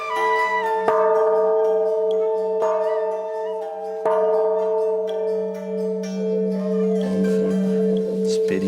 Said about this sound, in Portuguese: Tocar o sino do século XVII para convocar a comunidade.